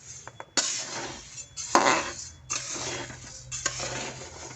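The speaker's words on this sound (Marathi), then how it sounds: "असं त्याला आपण सारखं हलवून घ्यावं लागतं, म्हणजे सारखा गहू तो भाजला जातो" Wheat grains being stirred and roasted in a pan for dink ladoo, giving repeated scraping and rattling strokes of a utensil against the pan, close and moderately loud, with brief pauses between bursts.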